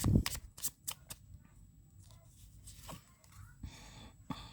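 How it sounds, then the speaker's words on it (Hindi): Tarot cards are shuffled in a few quick, soft riffling bursts, close but faint, with quiet pauses between them. "Last shuffle."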